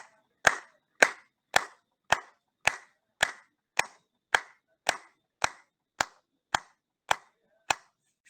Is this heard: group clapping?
yes